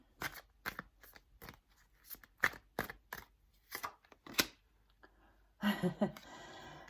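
Tarot cards are shuffled and riffled in a quiet room, crisp slaps and snaps at irregular intervals, ending in a longer rustling riffle.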